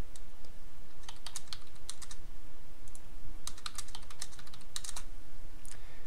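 Fingers typing a passphrase on a computer keyboard, bursts of crisp key clicks in quick clusters separated by short pauses, close and clear over a faint background hiss, no voices.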